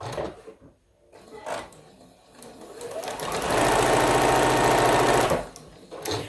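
Domestic sewing machine with a quarter-inch foot stitching quilt pieces, a fast continuous mechanical whir that builds up and runs for about two seconds before stopping, preceded by brief handling clicks.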